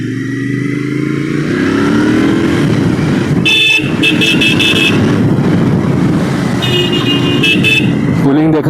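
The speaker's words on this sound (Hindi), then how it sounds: "हॉर्न भी इसका मतलब काफ़ी अच्छा है. स्टॉक हॉर्न भी लग रहा है कि स्टॉक हॉर्न है." A stock horn on a Royal Enfield Interceptor 650 BS6 motorcycle honks in several short bursts, loud and close, over the steady drone of the running engine and road noise.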